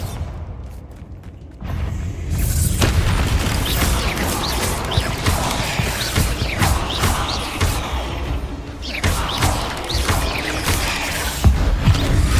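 Bombarda explosion spell in Hogwarts Legacy, a dense blast of booming impacts, crashing debris and whooshes that swell suddenly after a quieter start and keep rumbling loudly with repeated thumps.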